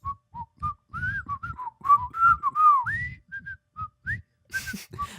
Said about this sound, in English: So yes, I do whistle.